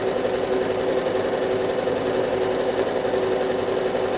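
A sewing machine runs steadily and loudly, free motion stippling a slash star quilt, with a continuous even whir and no pauses or talk.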